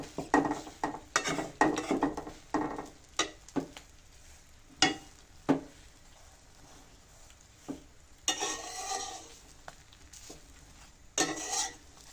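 Food sizzles and is stirred in a wok in oil left from frying fish, with scraping metal strokes and clinks coming in irregular bursts between quieter frying.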